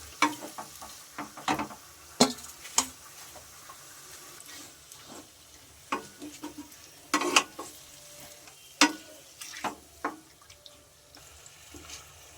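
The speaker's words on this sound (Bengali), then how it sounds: "ম্যারিনেট করে এবার হাই ফ্লেমে এটাকে" Marinated chicken frying on high flame in a pan, a soft sizzle broken by sharp clacks and scrapes of a stirring spoon at uneven intervals, heard close up.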